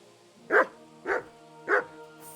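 A dog barks in the video game Kingdom Come Deliverance 2: three separate, evenly spaced barks, fairly close and clear, over a quiet steady background hum with no talking.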